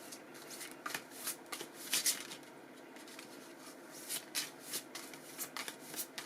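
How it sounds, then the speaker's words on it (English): Tarot cards being shuffled in soft, papery bursts that come and go, with brisk riffling flurries between quieter stretches, close and fairly faint, no talking. "I feel like I've been shuffling forever."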